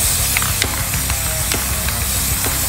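Continuous hissing of spray paint onto water with rattling, clicking bursts at irregular intervals, close and fairly loud, no voices.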